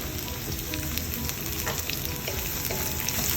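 Vegetables and chicken noodles fry over high heat in a pan, a loud, steady sizzle with scattered stirring scrapes and clicks throughout, no voices.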